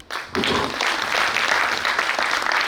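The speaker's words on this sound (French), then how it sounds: "Merci de nous accompagner avec vos applaudissements" An audience at an anniversary event's opening ceremony bursts into applause after a brief quiet start, and the dense clapping holds at a steady, full level.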